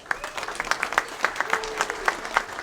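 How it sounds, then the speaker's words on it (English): Scattered, fairly light applause from a seated crowd at a racing awards banquet, individual claps spiking irregularly for a couple of seconds with no talk over it. "Big round of applause, if you will, for Andy Nichols"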